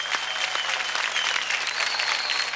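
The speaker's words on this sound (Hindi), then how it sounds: "इन बच्चों के लिए जोरदार तालियां प्लीज।" A television talent show audience gives a children's drama group act sustained, dense applause, a steady wash of clapping from a large crowd.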